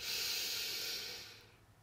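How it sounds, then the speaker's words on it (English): A slow, deep breath drawn in through the nose and released, heard as a steady close airy hiss that swells and then fades away toward the end, with no talking. "We're going to do 3 beautiful deep breaths. So we're going to breathe in through the nose"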